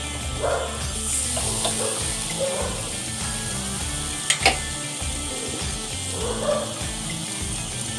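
Barbecue chicken pieces sizzle steadily on a hot grill as they are flipped, a close continuous hiss with a couple of sharp clinks from tongs or the grate, and no talk.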